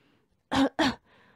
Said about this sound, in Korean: 그때 왕자가 콜록콜록하며 일어나서